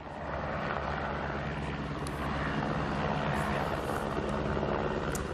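A rescue helicopter flies overhead with a steady, loud rotor and engine drone that holds without a break, no voices on top.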